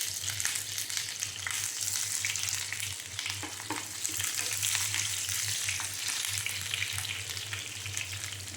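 Garlic and onion fry in a pan for a Filipino mung bean dish, a steady, close, loud sizzle running unbroken throughout with occasional stirring scrapes and no talk.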